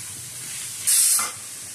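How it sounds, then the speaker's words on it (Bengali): Capsicum is stir-fried in a pan for pav bhaji. A short, sharp burst of sizzling hiss rises briefly over a quiet background hiss. "ভালোভাবে নেড়ে এগুলো ক্যাপসিকামগুলো ভাজতে হবে"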